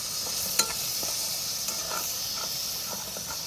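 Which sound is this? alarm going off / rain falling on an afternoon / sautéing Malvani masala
sautéing Malvani masala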